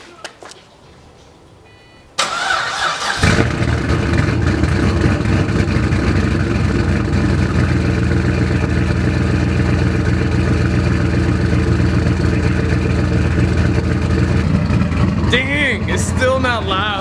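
Straight-piped turbocharged Pontiac GTO engine cranks and catches after a short quiet stretch, then settles into a steady, fairly subdued idle that holds evenly to the end.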